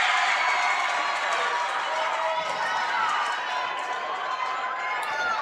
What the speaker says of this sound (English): As every point brings a cheer from the opposing team.